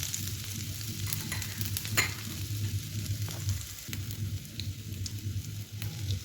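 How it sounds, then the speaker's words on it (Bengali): Three dried red chillies with half a teaspoon each of garlic and ginger paste frying in hot oil in a pan, a close, continuous crackling sizzle with occasional stirring scrapes and no voices. "এখন আমি সব উপকরণটি ভালোভাবে ভেজে নেব।"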